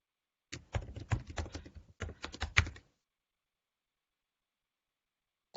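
A new password is typed on a computer keyboard in two quick bursts of clicky keystrokes separated by a brief pause, followed by silence and one final key press.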